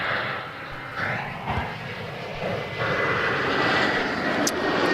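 A Jetstar airliner on a long final approach into Adelaide Airport gives off a steady, broad jet engine roar heard from a distance, swelling slightly and holding loud throughout, with no voices.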